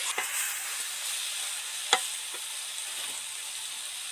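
Spices for banana-flower ghonto are stir-fried in oil, giving a faint, steady sizzle with a few soft stirring scrapes and one sharp click near the middle.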